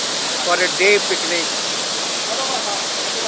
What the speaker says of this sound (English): Garun Chatti waterfalls at Rishikesh, under dense forest on way to Neelkanth Maharaj, and here the water is flowing down